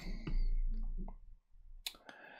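A few sharp computer mouse clicks, brief and close, scattered through an otherwise quiet stretch with a low steady hum underneath.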